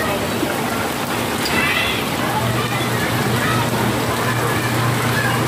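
Light rain patters onto flood water, a constant hissing wash with soft sloshing, while a low hum runs underneath and a voice murmurs faintly in the background.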